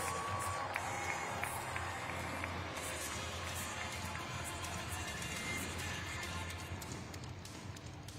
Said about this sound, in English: Round of applause for our FMX riders.